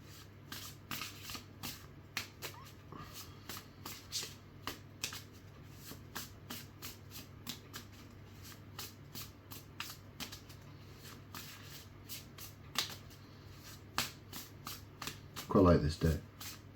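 A deck of cards is handled and shuffled up close, with crisp repeated riffles and flicks in a steady rhythm and a quick flurry near the end, under quiet talk.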